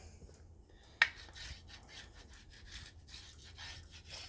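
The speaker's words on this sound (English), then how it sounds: "Put some wax on there." Wax being rubbed along a vinyl sliding window track, a sharp scrape or tap at the start followed by steady, close, rhythmic rubbing strokes at low volume.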